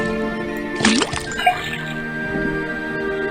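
In Detective Grimoire, liquid drips from a faucet into a cauldron with a few wet, plopping drips and a gurgle over quiet background music.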